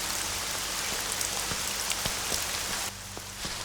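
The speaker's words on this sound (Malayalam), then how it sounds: "ആ മഴയല്ലേ" Steady rain falls on a surface throughout, a dense even hiss with scattered individual drops ticking out, softening slightly near the end.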